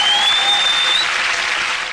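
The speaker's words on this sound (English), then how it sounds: "Let's give them another round of applause." An audience gives a round of applause, dense continuous clapping that is close and loud throughout, with a brief high whistle in the first half and fading slightly toward the end.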